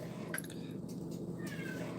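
A cat meows faintly in the background of a home kitchen, giving a couple of short thin cries over a steady low hum.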